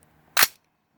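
A single sharp report from a CAR 15 rifle at an outdoor range, loud and close, with a brief decay and then silence.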